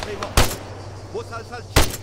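Two sharp gunshots ring out in an Arma 3 co-op escape mission on Malden, the first early and the second near the end, each loud and abrupt, with faint voices murmuring in between.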